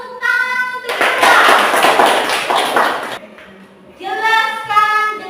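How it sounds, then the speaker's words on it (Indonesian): A high school class claps their hands together in a dense, loud burst lasting about two seconds, with voices speaking before and after it. "Tepuk tangan untuk kita."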